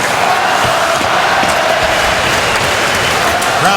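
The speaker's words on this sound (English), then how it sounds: "Crowd doing its best to be a factor throughout the night." A hockey arena crowd roars steadily through an NHL game between the Boston Bruins and Detroit Red Wings, a loud, dense wash of cheering and noise with scattered sharp knocks from the ice.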